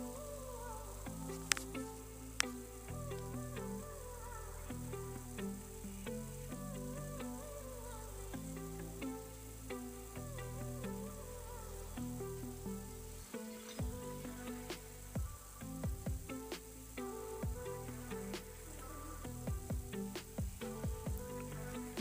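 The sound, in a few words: onion frying in a pan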